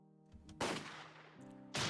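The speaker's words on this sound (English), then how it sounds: "A gunshot roared out" A single gunshot effect from the Higurashi visual novel bursts out loud and sharp, its blast decaying over a second, then a second sharp crack lands at the end over a low droning tone.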